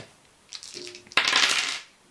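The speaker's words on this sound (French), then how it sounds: "Je peux alors relancer les 3 dés suivants" Three dice rolled in the Cap sur Habanabi board game, with a light first rattle followed by a louder, brief clatter of dice tumbling and settling on a hard surface, close and alone.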